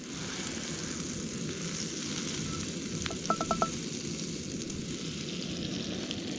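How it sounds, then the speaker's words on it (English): Steady, close sizzling of butter frying in a pan outdoors by an alpine lake, with a brief run of faint electronic beeps partway through. "Watching that butter sizzle"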